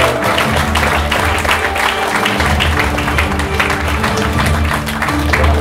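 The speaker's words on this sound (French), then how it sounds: "on peut l'applaudir, c'est beaucoup de talent." Loud, sustained applause from an audience at a Cannes cocktail award ceremony, a continuous dense clapping that fills the room, with voices and some music mixed in.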